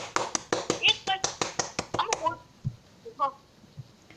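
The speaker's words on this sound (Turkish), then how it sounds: "Alkışlarım! Alkışlayın!" Children clap rapidly and unevenly in a room for a couple of seconds, the clapping fading out as a voice speaks briefly afterward.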